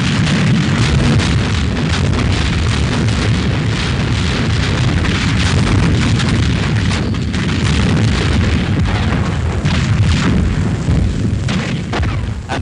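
Heavy, continuous rumble of explosions and gunfire as RAF Vampire jets attack a convoy near a devastated village during a military exercise, loud and dense throughout with no pauses.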